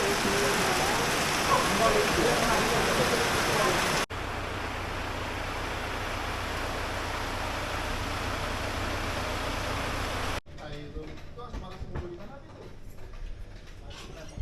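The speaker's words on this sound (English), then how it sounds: "Now it's time to enjoy a mug with this beautiful tropical rain here." Steady tropical rain in Borneo, Malaysia, a dense continuous hiss that changes in level across several cuts, quieter and more textured near the end.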